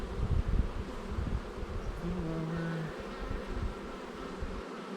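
A steady, dense buzzing of many honeybees close by at the hive, constant throughout with a faint low hum rising briefly in the middle.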